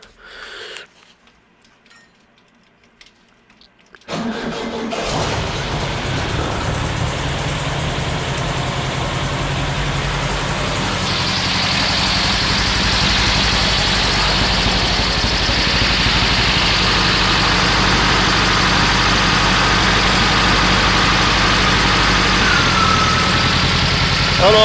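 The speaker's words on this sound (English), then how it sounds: "That's the alternator kicking on because those lights were on." A Baja buggy engine idles steadily after a quiet start, starting abruptly and then holding a loud, even drone with a slight rise in pitch and load as the alternator kicks on; no one speaks.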